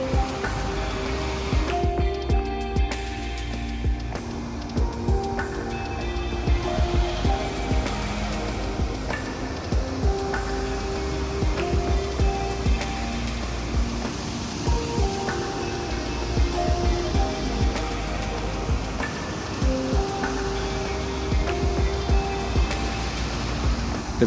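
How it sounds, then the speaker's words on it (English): Sunwapta Falls in Jasper National Park, a waterfall right off the highway, pours in a steady, full roar of rushing water that holds evenly throughout, heard from close by near its footbridges. "a waterfall right off the highway"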